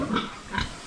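A pig on a farm gives two quick, rough grunts in under a second, close and fairly loud, with no voices.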